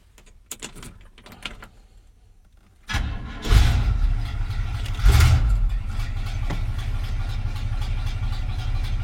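A car engine with a Quadrajet carburetor cranks briefly after some clicks and rattles, then catches and settles into a steady, fairly loud idle with a couple of revs, no talking.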